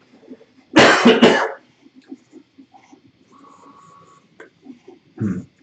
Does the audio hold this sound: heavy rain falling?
no